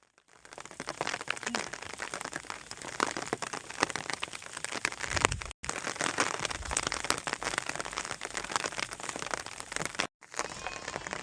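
Monsoon rain falls steadily in the Gir forest, a dense, even patter of drops on surfaces and leaves, close and constant apart from two brief cuts.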